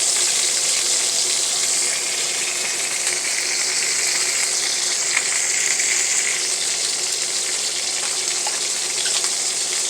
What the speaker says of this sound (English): So we're going to sear them on both sides.